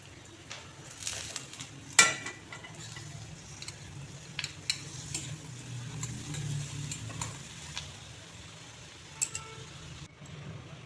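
Butter added to a hot pan for palak paneer, giving a faint, steady sizzle under sporadic utensil taps and clicks, with one sharper clink near the start.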